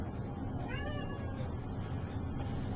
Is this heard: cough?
no